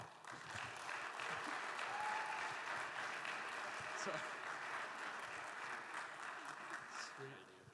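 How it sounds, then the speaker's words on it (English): Audience applause at a GCU Canyon Challenge awards moment, steady broadband clapping sustained for several seconds at moderate distance, with faint voices mixed underneath. "Round of applause, everyone."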